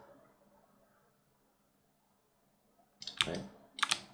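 Computer mouse clicks during 3D modeling work, a quiet room and then two short, close bursts of clicking near the end.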